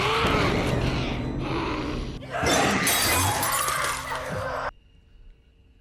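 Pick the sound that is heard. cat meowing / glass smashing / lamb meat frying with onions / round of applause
glass smashing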